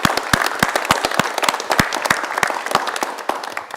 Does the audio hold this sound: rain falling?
no